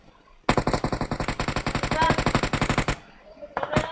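Close, loud automatic gunfire in the video game PUBG: one rapid burst of roughly twenty-five evenly spaced shots lasting about two and a half seconds, then a brief pause and a short second burst.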